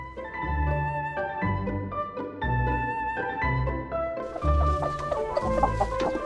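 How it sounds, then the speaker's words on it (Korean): Chickens clucking in a mountain farmyard, repeated loud, close clucks in short rhythmic bursts with brief pauses, one bird's calls growing busier near the end. "닭은 진짜 신기해요."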